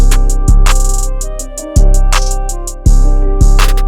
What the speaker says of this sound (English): Took the 808s out at the beginning of the verse, so that transition sounds like this